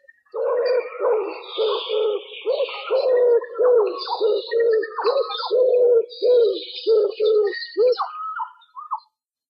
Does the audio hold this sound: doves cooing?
yes